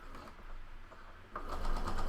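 Sewing machine running steadily as it stitches a fabric mask with a quarter-inch seam, the whirring motor picking up speed and growing louder partway through.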